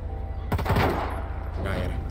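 Bursts of machine-gun fire in a GTA V zombie mode, with rapid cracks layered over a steady low game rumble and a faint voice underneath.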